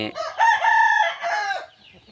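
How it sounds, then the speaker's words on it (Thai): A single loud, close call from a hen rises and falls over about two seconds, drawn out and tonal, with no talking. "วันนี้พามาดูแม่ไก่นะครับ"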